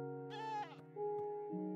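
A goat in Minecraft bleating, a short wavering nasal cry followed by a couple of sustained tonal calls, clear and close with no talk.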